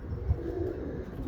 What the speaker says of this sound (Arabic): الحمام ناص